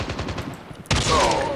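Gunfire in the mobile shooter Call of Duty Mobile: a run of rapid automatic shots, then a louder, denser burst of firing with a ringing tail, loud and close.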